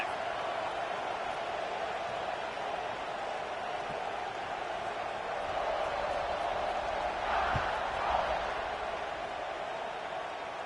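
A stadium crowd roars steadily at a college football game in College Football 26, a broad sustained wash of cheering that swells slightly near the end, heard without commentary.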